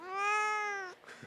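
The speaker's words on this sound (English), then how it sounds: "Cats on microphone is cool." A pet cat meows close to a microphone, a single long clear drawn-out call that stops abruptly, followed by faint rustling.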